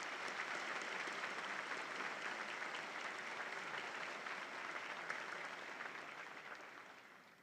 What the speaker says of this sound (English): Let's have a round of applause for these university leaders.